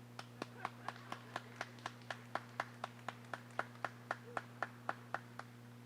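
Clapping from the audience at a groundbreaking ceremony for LGBTQ supportive housing, crisp claps landing in a regular, quick beat throughout, fairly close and clear over a steady low hum.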